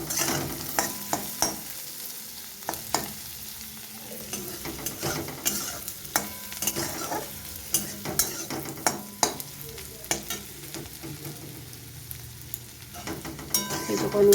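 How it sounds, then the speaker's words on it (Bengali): Chopped onions lightly frying in a pan for an egg and poppy seed dish, with a soft steady sizzle broken by frequent sharp scrapes and clacks of a spatula stirring throughout. "পেঁয়াজটাকে একটু হালকাভাবে ভেজে নেব"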